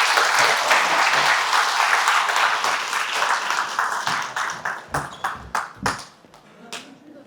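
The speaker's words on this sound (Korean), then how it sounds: "자, 다시 한번 큰 박수 부탁드립니다." Audience at a creditors' union's first official event applauds after a lawyer finishes a speech, a broad wash of clapping that thins into scattered individual claps before fading out.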